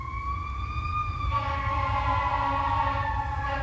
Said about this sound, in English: Notice how the sirens stop and then they restart.